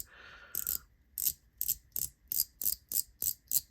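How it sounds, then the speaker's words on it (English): A ratchet coin fidget toy clicking, with a sharp close click repeating roughly every third of a second, about ten in a row, loud and alone. "this side is like a haptic coin type thing. Ratchet coin."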